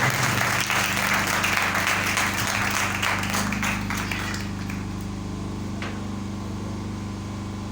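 Church congregation applauding at a worship service, a dense, loud wash of clapping that gradually fades over several seconds, with a low steady hum underneath.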